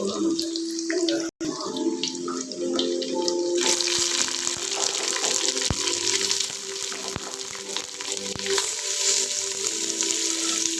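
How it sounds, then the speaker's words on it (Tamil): Onion hits mustard seeds, fenugreek and curry leaves frying in oil in a clay pot for fish curry. A brief drop in sound comes first, then a louder, dense, crackling sizzle sets in and continues close up, with a few sharp clicks and no speech. "கருவேப்பிலை, கடுகு வெந்தயமும் நம்ம நல்லா பொரிஞ்சதுக்கப்புறம் நம்ம வெங்காயம் ஆட் பண்ண போகிறோம்."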